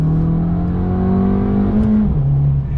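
An Abarth 695 70th Anniversario engine pulls hard from inside the car on a road trip, its tone rising steadily through the revs before a gear change drops the pitch, loud and close with no talking.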